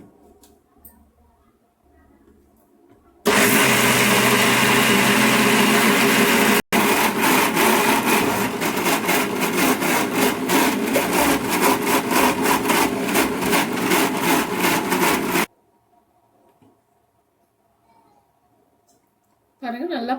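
Loud, continuous grinding of a mixer grinder whirring through soaked urad dal with a little rock salt and water into vada batter, starting abruptly, briefly cutting out, then running steadily for about twelve seconds before stopping.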